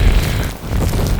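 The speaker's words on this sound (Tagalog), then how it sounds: "Sobrang hangin." Strong wind blows steadily outdoors in deep snow in Denmark, a loud, continuous broadband roar with heavy low buffeting against the microphone and a brief lull midway.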